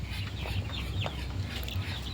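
Chickens cluck and chirp in short, scattered calls inside a poultry farm, steady and moderately close over a low, constant farm hum, with no talking.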